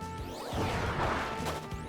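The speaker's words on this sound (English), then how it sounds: "We're just trying to smack it with a paintbrush." A paintbrush smacking an enemy in Kirby Star Allies, heard as a couple of quick whooshing thwacks over busy game music and effects, moderately loud.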